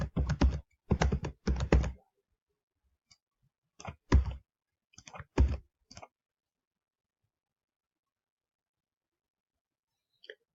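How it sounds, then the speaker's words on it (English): A password is typed on a computer keyboard in quick clusters of close, crisp key clicks, with a short pause and then a few more scattered bursts before a long stretch of silence. "I'll just type it in plain text and copy it so you can see"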